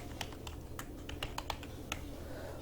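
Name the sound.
typing on a computer keyboard in Excel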